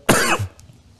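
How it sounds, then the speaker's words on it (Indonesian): One sharp, close cough followed by a short throat rasp, then quiet. "saya ingin ingatkan bahwa di saat penjelasan mungkin saya masih ada batuk-batuk"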